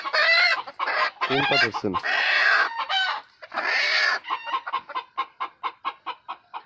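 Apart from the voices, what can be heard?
hens clucking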